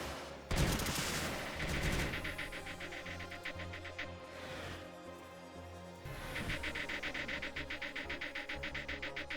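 Launchers fire in a video game as dense bursts of rapid explosive shots, including a loud blast and long rattling volleys of steady repeated fire.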